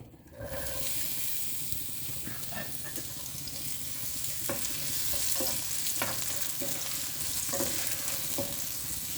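Large onions sauté in a pan for chicken biryani, giving a steady, close sizzling hiss with occasional scraping stirs over it and no talking.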